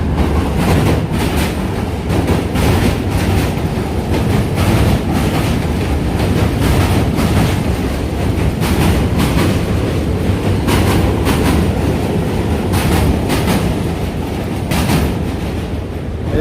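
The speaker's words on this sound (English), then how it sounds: "And the train again." A train rumbles steadily across the Manhattan Bridge between DUMBO, Brooklyn and Manhattan, a loud, continuous roar of wheels and rail clatter that holds for the whole stretch with no voices over it.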